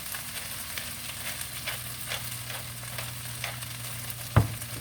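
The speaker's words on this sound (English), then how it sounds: "Putting new hash browns on that surface." Hash browns fry in melted bacon grease on a griddle with a steady close sizzle and light crackling, ending with a single sharp clack.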